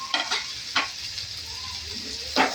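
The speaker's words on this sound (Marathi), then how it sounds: "आता टोमॅटो टाकते. टोमॅटो, एक शिमला मिरची आणि 2-3 मिरच्या" Tomatoes, capsicum and green chillies sizzle in a pan for paneer bhurji, a soft, steady frying hiss broken by a few close scrapes of a spoon stirring against the pan.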